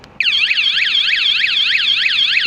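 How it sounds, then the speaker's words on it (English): A motorhome security system panic alarm blares after a brief pause, a loud continuous warbling electronic siren sweeping rapidly up and down, close by. "There's a panic alarm."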